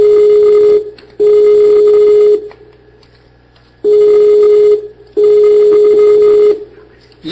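A telephone line after a call is hung up, giving loud, steady electronic busy tones in repeated on-off bursts with short silent gaps between them.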